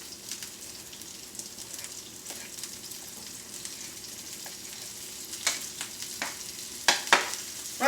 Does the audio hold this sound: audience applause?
no